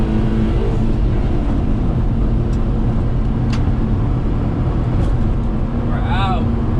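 Daihatsu HiJet kei truck rolling along a road at about 30 mph, with steady engine drone and road rumble throughout and a few light clicks and squeaks from the cab, heard from inside.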